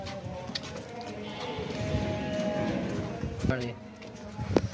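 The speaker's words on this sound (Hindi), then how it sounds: "ये बच्चा है माशाल्लाह से इसका, बहुत ही प्यारा क्वालिटी वाला A+ बीतल बच्चा" A Beetal goat kid bleats a few times at close range on a livestock farm, thin high cries mixed with shuffling hooves and background voices.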